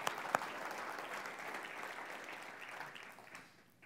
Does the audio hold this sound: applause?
yes